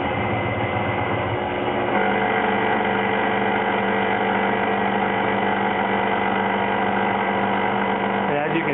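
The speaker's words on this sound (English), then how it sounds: "now we're going to take a fly cut pass" TAIG benchtop CNC mill at 3,000 RPM taking a light fly-cutting pass across aluminum, a loud continuous motor whine and tonal cutting hum, steady throughout with a slight shift partway.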